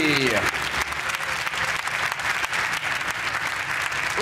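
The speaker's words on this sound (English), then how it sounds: "Please give a massive round of applause, Joe Buckeye!" An audience at a Ford Focus RS presentation bursts into loud, continuous applause, a steady wash of many hands clapping right after an announcer's voice trails off.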